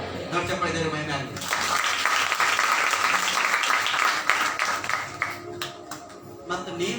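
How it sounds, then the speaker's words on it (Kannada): A church congregation at a Kannada worship service bursts into a sustained round of applause, dense clapping that swells after a preacher's voice and fades as he speaks again. "ದೊಡ್ಡ ಚಪ್ಪಾಳೆ ದೇವರ ಮಹಿಮೆ ಆಗಲಿ"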